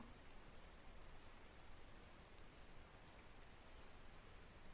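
Steady rain falls in a continuous, even hiss of drops striking surfaces, soft and distant, with no voices and no thunder.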